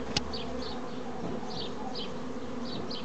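Honeybees buzzing at the hive fill the air, a dense continuous drone with faint higher chirps scattered through it and a single sharp click early on.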